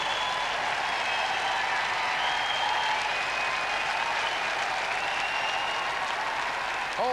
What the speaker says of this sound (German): Großer Jubel für die Radio- und Fernsehlegende Großbritanniens, Terry Wogan.